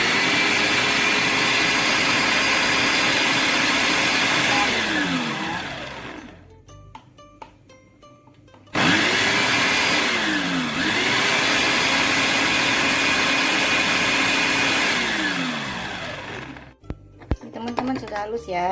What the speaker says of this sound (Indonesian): Ini teman-teman udang rebonnya kita blender ya teman-teman.